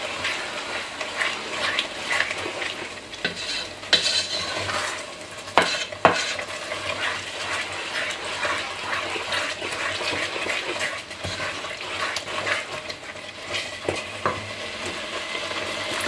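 Onion soup is stirred in a pot: a continuous bubbling, liquid swish with frequent spoon scrapes and a few sharper knocks against the pot, steady throughout, with no voices.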